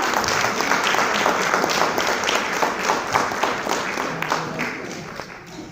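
An audience at a Lucknow stage event applauds, steady crowded clapping that holds loud throughout and gently tapers toward the end.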